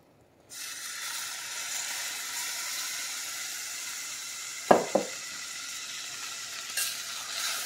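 Evaporated milk poured into caramel icing cooking on a stovetop, a steady soft sizzle and hiss with a couple of brief clinks partway through, fairly quiet and without talk.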